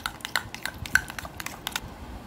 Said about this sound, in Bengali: ভালো করে টক দইটাকে প্রথমে আমরা ফেটিয়ে নেব